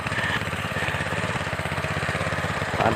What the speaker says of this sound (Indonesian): Itu kita lihat Mas Sutrisno membajak tanahnya dengan traktor kecil ya.